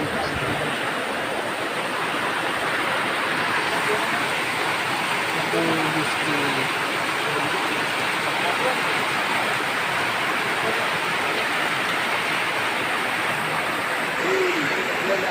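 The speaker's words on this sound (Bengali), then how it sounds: "প্রচুর বৃষ্টি। আমার দোকানের সামনে দিয়া কিভাবে পানি যাইতেছে দেখেন সবাই।" Heavy downpour in front of a shop with water streaming past, a loud, dense, unbroken hiss of rain and running water lasting the whole time, close and steady.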